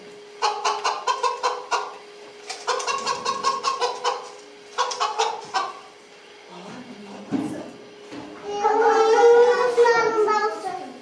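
A recorded hen clucks in several short rhythmic bursts, clear and fairly close, in a classroom lesson about domestic poultry; a voice and other soft talk follow near the end.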